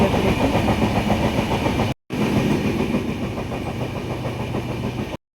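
Passenger train running from Prayagraj toward Kanpur Central as it slows for an unscheduled halt at Bamrauli, a steady loud rumble of engine and rolling carriages with rhythmic clatter, briefly cut then continuing without voices.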